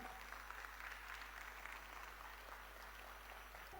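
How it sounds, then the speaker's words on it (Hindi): Faint, distant rapid clapping from a standing audience, a continuous wash of hands heard well back with a steady low hum underneath and no clear talk. "इनके लिए जोरदार खड़े होकर के जोरदार तालियां"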